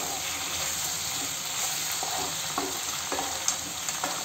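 Tomato fries with brinjal in a pan for an Andhra-style brinjal gojju, a steady sizzle under repeated light scraping of a spoon as the mixture is stirred.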